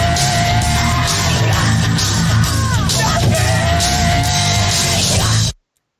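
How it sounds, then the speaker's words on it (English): A loud jingle remix with two screams mixed in, heavy and distorted with yelling voices over a driving beat, ending abruptly. "I added the 2 screams from today into the nothing jingle"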